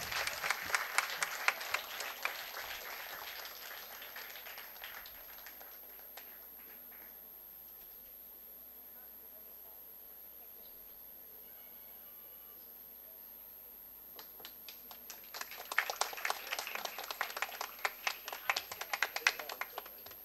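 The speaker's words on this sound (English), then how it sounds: "Can we give him a big round of applause?" Crowd at a valedictory session applauds the chief guest: a dense burst of many hands clapping at the start fades to quiet, then a second strong round of applause rises near the end, moderately loud and unaccompanied by speech.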